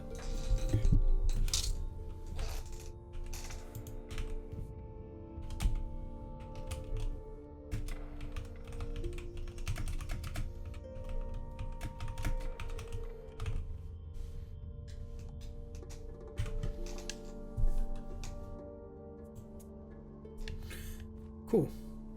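Computer keyboard typing during a let's play of the puzzle game Quern: Undying Thoughts, steady clicking taps running through the whole stretch beneath game music, ambient tones and a talking voice.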